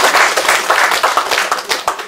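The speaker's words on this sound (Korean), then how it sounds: "축사를 해주신 세 분들한테 박수 다시 한번." Audience applause at a book launch celebration, a dense, steady wash of many hands clapping together for the whole stretch, loud and close with no voices over it.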